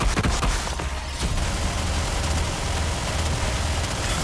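Crystal Barrage attack in Honkai Star Rail combat: a dense, loud barrage of rapid booming impacts and crackling bursts that rolls on continuously, with a brief dip in intensity near the start.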